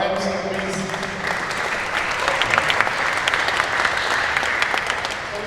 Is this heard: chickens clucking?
no